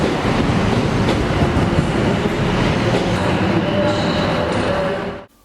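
A Class 156 diesel multiple unit train rumbles along steadily on the line to Mallaig, Scotland, with a loud, continuous roar and faint wheel noise, then the sound cuts off abruptly at the end.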